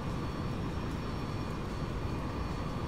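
Airliner jet engines in X-Plane 11 as the plane climbs out after takeoff: a steady, dense, loud broadband roar holding even throughout, with no speech.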